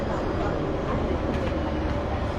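A French RER commuter train heading toward Rueil-Malmaison rumbles steadily from inside the carriage, a continuous broadband roar with voices talking over it.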